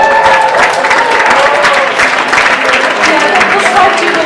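An audience claps steadily after a presentation, a dense even wash of applause that holds strong for several seconds with no voices on top.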